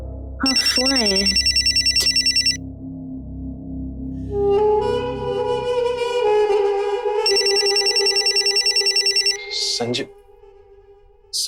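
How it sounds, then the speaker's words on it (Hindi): A telephone rings in loud repeated electronic trills, with tonal music and voices in between the bursts. "हाँ, फोन आया है।"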